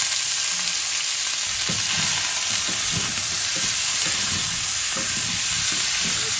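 Onion and tomato frying in a pot as the base for pork ribs sinigang with taro, giving a steady close sizzle with soft stirring scrapes and no voices.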